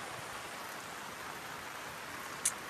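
Rain falls in a soft, even hiss, faint and continuous, with one brief sharper tap near the end and no talk.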